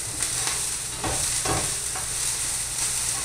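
Green onions sizzle in oil spread across a paella pan, a steady close frying hiss broken by several scraping stirs.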